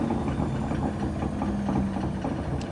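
A Whirlpool SCW1112WH washing machine on a Quick Wash 30 cycle braking from spin, a steady mechanical hum with rhythmic pulsing and whine throughout.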